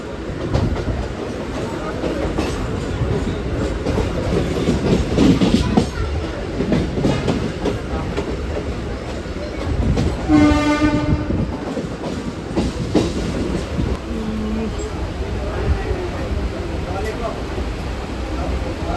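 A train near Thakurli village rolls past with a continuous rumble and clatter of wagons, and a sustained horn blast sounds midway through.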